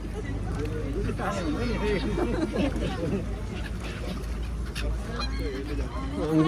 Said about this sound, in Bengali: হাঁস আর হাঁস রানীর হাঁস এক একটা হাঁস মিনিমাম দশ কেজির মতো হবে